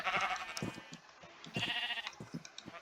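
Minecraft sheep bleat in the game, two or three wavering nasal bleats in succession, fairly loud and close, with no talking over them.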